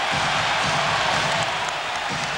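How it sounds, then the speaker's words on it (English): A basketball arena crowd at a Knicks versus Pacers game roars steadily in a broad wash of noise, loud and sustained with no clear breaks. "This crowd reacting to the Knicks effort here tonight."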